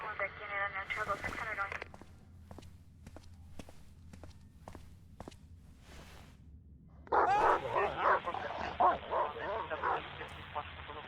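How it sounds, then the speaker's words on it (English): An angry dog barks in the Silent Hill: Downpour video game, a burst of loud barking late in the clip, following a stretch of regular footsteps and a short bit of talk at the start. "There's a dog in there. It's not a monster dog or anything. It's just an angry dog."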